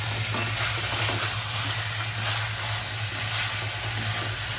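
Food sautéed on a high gas flame for about ten minutes, a loud, steady sizzle with continuous stirring and a brief clink near the start, no talking.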